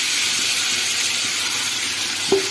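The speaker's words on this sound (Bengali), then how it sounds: "তাহলে আমি দুরকম তেল দিয়ে আজকে মাংসটা রান্না করছি" Mutton marinated with salt, turmeric and mustard oil sizzles in hot oil, a steady, close hiss of frying with no voices, ending on a brief sharp clink near the finish.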